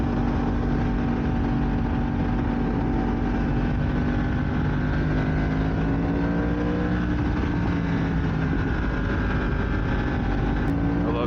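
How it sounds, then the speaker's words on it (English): A Yamaha R1 motorcycle engine drones steadily and loudly while decelerating during an early-morning ride, with wind rush over it and faint pops hard to pick out. "Decelerating on this thing and just hearing the pops."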